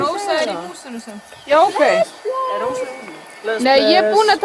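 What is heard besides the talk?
No everyday noise stands out behind the speech.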